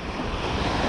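Ocean surf breaks in a continuous loud wash of waves with steady wind noise buffeting the microphone, a dense unbroken roar with no talking.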